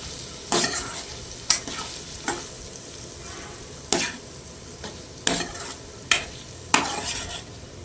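Goat kidney and liver pieces with turmeric and chili powder sizzle in a pan, stirred with a spoon in sharp, evenly spaced scraping strokes about every second over a steady fry, close up and without speech.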